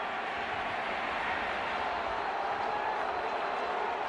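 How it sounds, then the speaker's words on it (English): A big baseball crowd at Fenway Park in Boston applauds an ejection during a heated Red Sox game, a steady, dense wash of clapping and cheering that fills the whole stretch without breaks. "This crowd here at Fenway right now is applauding the ejection of Alex Rodriguez"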